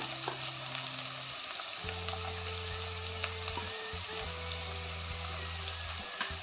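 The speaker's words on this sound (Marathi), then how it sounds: "आता ह्याच्यात आपल्याला कांदा घालून घ्यायचा आहे." Onion sizzles in hot oil with curry leaves and chili for a spicy crab curry, a dense even frying hiss with faint crackles and a low steady hum beneath, no speech.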